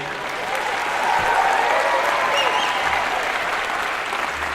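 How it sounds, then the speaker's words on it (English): Audience applause at a university closing ceremony, a full, sustained wash of clapping from a crowd that holds steady throughout. "We need a little bit of stronger applause here"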